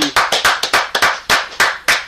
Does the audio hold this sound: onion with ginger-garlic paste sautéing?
no